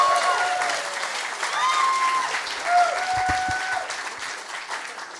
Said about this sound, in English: everyone put your hands together and welcome Piers and his talk